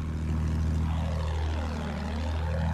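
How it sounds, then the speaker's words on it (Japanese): Propeller fighter plane in Battlefield 1 drones loudly overhead, a steady, throbbing engine roar that swells and shifts in pitch as it passes, with no talk. "そこだ、奴らの飛行機だ。"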